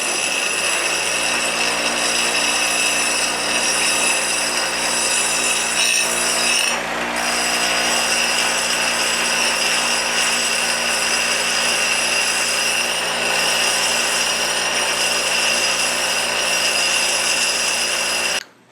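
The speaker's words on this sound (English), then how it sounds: "Now I'm going to put our tool on the grinder here and shape the point" Bench grinder shaping the point of a forged steel right-angle punch, a steady loud whine with continuous grinding that runs almost without a break, one brief dip partway through, before stopping abruptly at the end.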